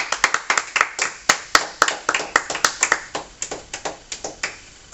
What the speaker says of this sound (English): I would like y'all to give a round of applause to exercise expert Daniel Dewar.